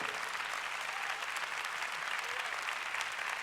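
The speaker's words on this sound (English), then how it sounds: "Come on, give the Lord a big clap." Congregation in a church service clapping together, a dense steady wash of applause that holds evenly from start to finish with no voices coming through.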